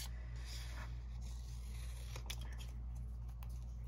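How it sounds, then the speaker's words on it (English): A large pair of scissors snips at paper while a journal is being made, giving a series of quiet, close crisp cuts over a steady low background hum, with no talking. "I'm just on the hunt for a good pair of scissors."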